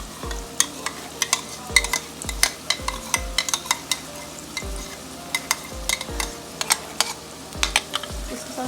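A spoon stirs masala with whisked yogurt as it fries in a pan for a bitter gourd and onion dish, with rhythmic scraping strokes over a steady close sizzle.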